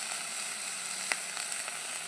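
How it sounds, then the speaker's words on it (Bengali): Cauliflower stalks and taro leaves fry with cumin in a pan, giving a soft steady sizzle with a few faint pops and clicks, no voices. "এক মিনিটের মতন ভেজে নেব"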